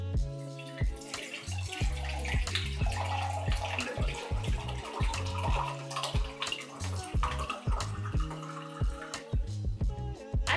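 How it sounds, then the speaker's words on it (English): Wine is poured from a bottle into a mug, a close liquid gurgle and splash that runs on for several seconds with uneven glugs and drips. "Let's pour a glass."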